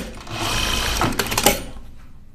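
A sewing machine stitches a wool Bowline sweater in a steady, close whirring run of about two seconds, ending with a couple of sharper mechanical clicks before stopping.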